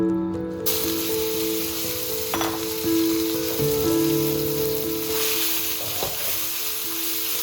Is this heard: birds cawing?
no